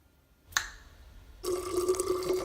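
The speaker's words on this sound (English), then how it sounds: "They say if you snap your fingers, you can time travel." A single sharp finger snap, crisp and close in a quiet room at night, followed a moment later by a running water-like hiss that continues to the end.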